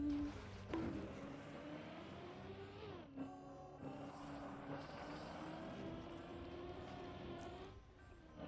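A video game racing car's engine drones at moderate level with rising and falling pitch, a steady revving whine that briefly dips and shifts midway before continuing.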